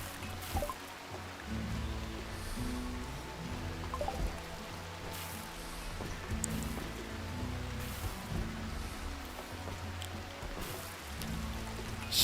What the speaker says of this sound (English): Forced weather, so it's going to be foggy and rainy.